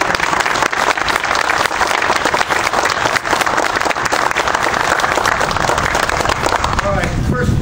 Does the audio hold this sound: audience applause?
yes